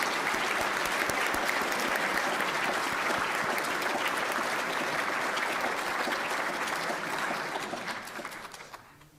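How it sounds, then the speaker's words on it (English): Sustained audience applause at a 2022 awards ceremony for the Simon Remo Award winners, dense and steady for about eight seconds before tapering off at the end. "Let's give a round of applause to this year's winners of the Simon Remo Award"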